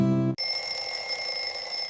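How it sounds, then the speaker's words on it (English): A bedside alarm clock gives a loud, close ringing burst, then an electronic tone chimes on steadily with no talking. "I turn off my alarm."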